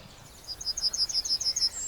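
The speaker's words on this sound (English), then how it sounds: "All over the world, birds throw their heads back in song." Birds singing in the dawn chorus, a quick run of bright, high repeated chirps in a regular pulsing series over a quiet background.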